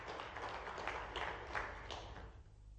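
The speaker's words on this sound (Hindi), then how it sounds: "उनका ताली बजा करके स्मरण करें।" An audience at an official gathering applauds, a full, steady roll of clapping that fades slightly toward the end, with no talking over it.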